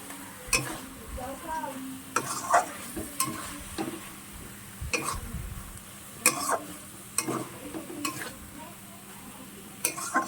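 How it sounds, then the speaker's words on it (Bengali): A utensil stirs eggs and onions in a frying pan for egg kalia, producing repeated close scrapes and taps against the pan over a faint, steady sizzle, spaced irregularly across the stretch. "ডিমগুলোকে বসিয়ে চারি সাইডে পেঁয়াজগুলো তুলে দিতে হবে ডিমের ওপরে। একটু ভালো করে নাড়তে হবে এখন।"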